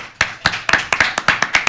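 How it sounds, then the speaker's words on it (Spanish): One person's hand claps welcoming a new member of a Dominican political party committee, about nine sharp, close claps in a quick uneven rhythm, loud and alone. "quiero que recibamos con un fuerte aplauso al nuevo miembro del Comité Político del Partido de la Liberación Dominicana"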